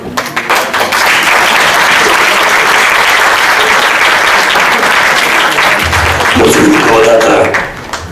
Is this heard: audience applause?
yes